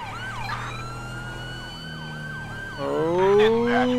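A stolen ambulance siren in the LSPDFR police video game wails in repeated rising and falling sweeps, then switches to a louder, faster pattern near the end, close and prominent.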